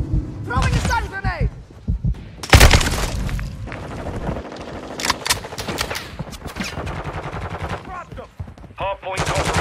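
Automatic gunfire and bursts in Modern Warfare 2 Hardpoint multiplayer on the Santa Sena Border Crossing map, loud and repeated throughout with sharp blasts and game voice callouts layered over the shooting.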